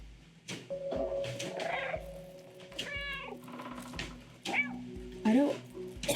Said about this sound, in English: Oh, the meows for hints.